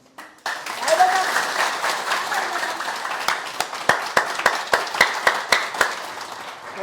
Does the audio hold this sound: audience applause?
yes